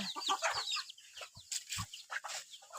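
Chickens cluck close by on a rural farm beside rice fields, with quick bursts of short clucks and a few louder calls over a quiet background.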